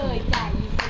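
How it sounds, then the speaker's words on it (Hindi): Two sharp hand claps ring out, spaced about half a second apart, over a busy background of voices at a home party. "अब ताली बजाएं ताली"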